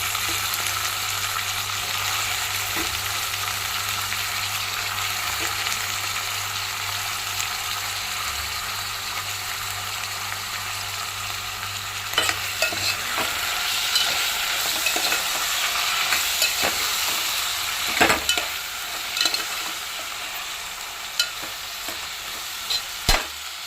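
Brinjals and onions frying in a pan, a continuous sizzle with repeated scraping stirs of a spoon, getting clattery and more frequent in the second half, no one talking.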